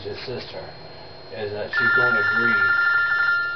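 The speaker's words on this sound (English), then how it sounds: "Excuse the phone ringing" A telephone rings indoors during an interview, a steady high electronic trill that starts partway through and continues under someone speaking close by, moderately loud.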